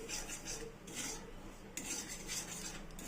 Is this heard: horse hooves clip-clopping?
no